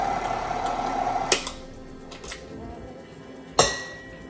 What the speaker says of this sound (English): I'm gonna poke this one more time with the fork